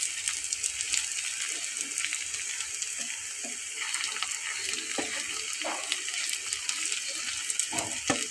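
Crispy potato bites fry in a pan over a medium flame, giving a steady soft sizzle with small pops and light scraping, fairly quiet and with no one speaking.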